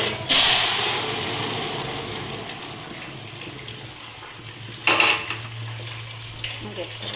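Panch phoron whole spices hitting a little hot oil in a pan, a bright sizzling burst that settles into a steady frying hiss, with a second sharp crackle later and a clatter of kitchen utensils.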